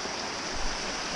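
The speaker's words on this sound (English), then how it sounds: "Little waterfall." A small waterfall on a river rushes in a steady, broadband wash of falling water, close and continuous with no voices.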